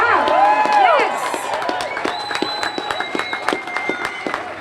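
A crowd at a Cape Verdean flag raising ceremony claps and cheers, with whoops and shouts at first, then settles into scattered, lighter clapping.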